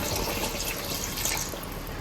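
About two litres of water poured into a pot of Hyderabadi mutton paya, a continuous close splashing gush that runs steadily for a couple of seconds with no talk.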